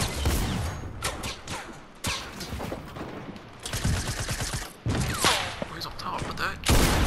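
Rapid gunfire from a tactical shotgun in a shooter video game, a dense string of loud close blasts in bursts with brief pauses, mixed with clatter and game noise throughout.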